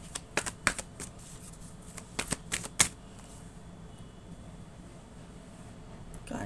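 A deck of tarot cards is handled and shuffled close by, giving a quick burst of crisp riffling flicks followed by quieter handling and low background hiss.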